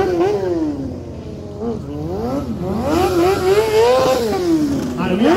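A car engine revs hard at a drift event in Trinidad, rising and falling in pitch through repeated throttle bursts, loud and close, with crowd noise and voices underneath.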